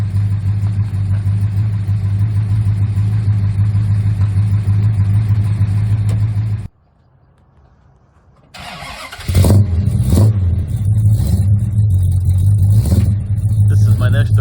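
A 1969 Plymouth GTX with a 440 V8 idles loudly and steadily nearby with a deep rumble, cuts out briefly, then restarts and revs in a few sharp bursts while being backed off a trailer.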